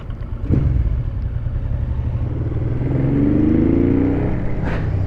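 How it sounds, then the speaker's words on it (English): An old motorcycle in worn condition runs close by, its deep, gruff engine rumbling and then swelling as the revs climb, with no speech over it. "I love the grunt on this engine."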